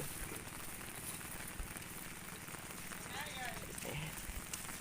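Steady rain patters on surfaces throughout, a dense wash of drops with faint voices and small sounds in the background.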